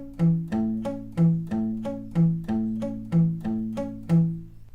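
Palm-muted acoustic guitar picking, a steady repeating pattern of plucked notes with the strings damped lightly at the bridge, about ten evenly spaced attacks, clear and close with no voice.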